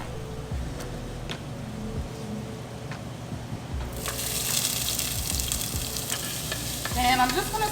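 Red onion strips sautéing in a pan, a steady sizzle with stirring scrapes and taps that swells louder and brighter partway through, with no talk.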